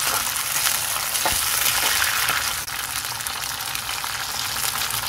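Shallots and curry leaves sautéing in hot oil, with a dense continuous sizzle close up and a faint stirring scrape, no talking.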